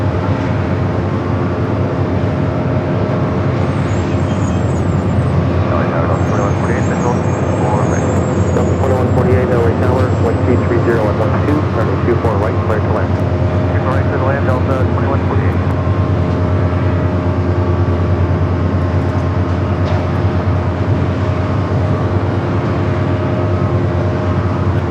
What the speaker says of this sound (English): Japan Airlines A350-1000, the flight heading back to Tokyo Haneda, heading up for a north side at takeoff.